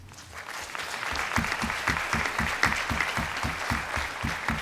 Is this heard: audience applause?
yes